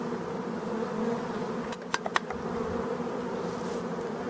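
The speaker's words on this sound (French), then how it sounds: "On voit très bien les abeilles qui rentrent" Honey bees fly into their hive at a beekeeper's apiery with a continuous, even buzzing drone, a few sharp clicks breaking through near the middle.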